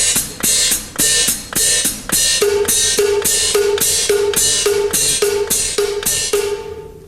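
A drum pattern built on an upbeat cowbell rhythm with hi-hat splashes, steady repeated clanking hits with crisp cymbal wash, played loud and close without any voices.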